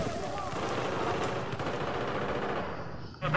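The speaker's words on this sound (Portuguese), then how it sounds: "Vou dar um tiro nesse bicho aí mesmo." Dense, continuous gunfire and explosions from the video game Battlefield 4 on PS3 during online play fill the mix at steady loudness, with rapid automatic bursts blending into a constant roar.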